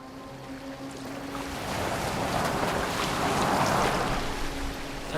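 A boat moves across open water in Assassin's Creed Valhalla, with a steady, full wash of waves and rushing wind that swells slightly midway and carries on continuously with no voices.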